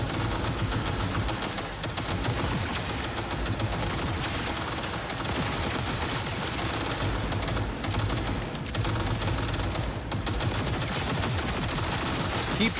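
Cyberpunk 2077 combat gunfire rattles without a break, rapid overlapping shots and bursts forming a steady dense barrage that stays loud throughout.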